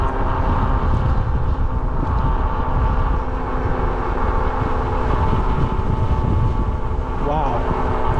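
Strong, steady wind rumbles and buffets close by throughout an e-bike ride along East Lake Road, a dense low roar with a faint vehicle hum beneath it.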